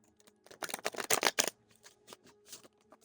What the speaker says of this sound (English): let's shuffle up these cards